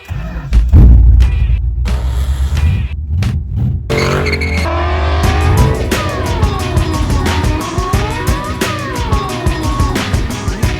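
A Shelby GLHS car engine is heard as the car pulls into a shop: a low idle rumble and a few scattered knocks at first, then a loud, steady, close engine drone with rising and falling revs that fills the rest.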